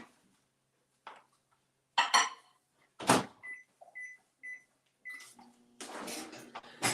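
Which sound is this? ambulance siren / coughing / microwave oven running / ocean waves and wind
microwave oven running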